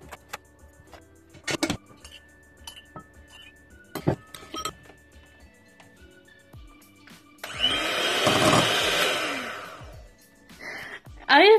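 Whipped iced coffee being whisked in a glass: scattered sharp clinks of the whisk against the rim, then a few seconds of steady, buzzing frothing, and a final loud clatter.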